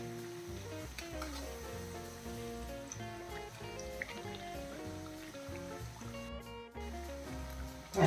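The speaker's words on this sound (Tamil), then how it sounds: "மூணு நாலு வாட்டி இந்த மாதிரி திருப்பி திருப்பி போட்டு நம்ம ஃப்ரை பண்ணி எடுக்கணும்" Masala vadai deep-frying in hot oil while being turned over, a steady close bubbling sizzle with occasional clinks from a utensil, and background music underneath.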